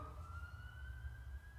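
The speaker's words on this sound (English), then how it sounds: "this is an ambulance every night" An ambulance siren outside at night sounds faint and distant as a single steady rising tone, held over low background rumble with no one speaking.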